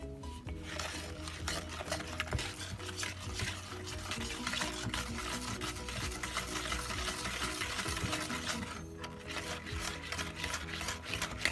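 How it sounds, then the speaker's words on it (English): Milk Bar pie mix being stirred in a bowl, continuous scraping and clinking of utensil against the dish with some watery sloshing, close and fairly loud. "Alright, I gotta mix."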